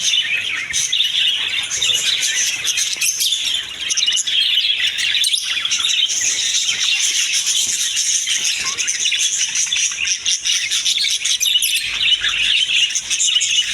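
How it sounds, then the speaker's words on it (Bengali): Many colourful cage birds in a shop chirp and tweet continuously, a dense bright chorus of overlapping calls with occasional squawks, steady throughout with no talking. "অনেক সুন্দর কালারফুল পাখি"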